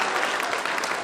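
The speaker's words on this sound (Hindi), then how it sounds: "तालियां बहुत कमजोर है" Audience applause at a Hindi kavi sammelan poetry recital during a Holi celebration, a dense steady wash of many hands clapping throughout, fairly loud and unbroken.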